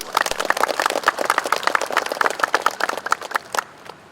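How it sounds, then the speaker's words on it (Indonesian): A crowd of street sweepers at a morning assembly ceremony breaks into steady, dense applause, many hands clapping close together for about four seconds before it trails off. "Tepuk tangan untuk semua."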